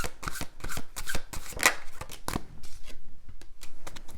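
Tarot cards are shuffled by hand at close range in a quick series of riffling, flicking bursts, then the sound tapers off into quieter handling, with no speech.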